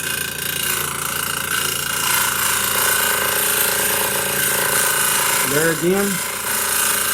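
Bench grinder sharpening a woodturning skew chisel, a steady loud grinding whine running throughout with a brief rising scrape near the end, while someone talks over it.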